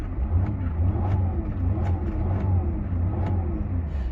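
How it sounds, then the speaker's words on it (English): A 2006 Mercedes-Benz E280 CDI 3.0 diesel engine with 7G-Tronic revs up and down several times in quick succession, a steady rumbling idle underneath each rise, heard close by. "I'll give it a rev for you."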